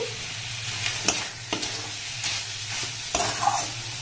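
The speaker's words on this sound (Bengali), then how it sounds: "গ্যাসের ফ্লেমটাকে লো রেখে মিষ্টিটাকে দেখুন নাড়াচাড়া করতে করতে অনেকটাই মাখো মাখো হয়ে গেছে।" Coconut sweet being stirred in a pan over a low gas flame, with cardamom added: a steady soft sizzle carries scattered spoon scrapes against the pan, with no talking.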